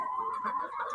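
Backyard chickens cluck and murmur softly in a flock of older hens, a steady faint chorus of low fowl calls without a clear break.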